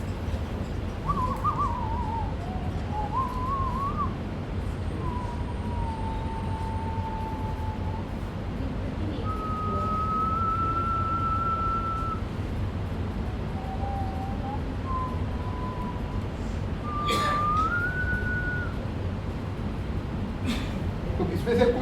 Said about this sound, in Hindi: दो तीन अलग अलग तरह की सीटियां बजाने की कोशिश करता हूँ,